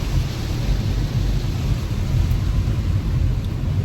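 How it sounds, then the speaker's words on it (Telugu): Steady rain falls around a car on a family road trip to the Vadapalli Venkateswara Swamy temple, a dense, continuous low rumbling wash with no voices, loud and unbroken throughout. "మంచిగా వర్షం పడుతుంది"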